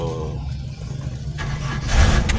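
A model year 2000 car engine cranks and catches about halfway through, then settles into a steady idle that swells slightly louder near the end, heard up close from inside the car.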